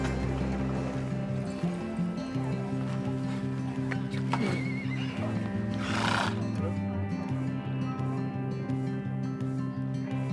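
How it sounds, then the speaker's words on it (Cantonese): Horses on the volcanic sand sea below Mount Bromo, Indonesia, give loud whinnies amid a busy outdoor ambience with a voice talking through it. "真係有好多馬。"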